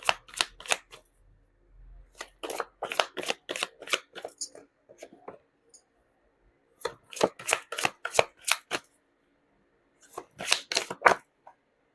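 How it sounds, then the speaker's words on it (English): Tarot cards being shuffled by hand, crisp riffling bursts repeated in several separate rounds with short pauses between them, close and clear in a quiet room. "You saw me shuffle as always."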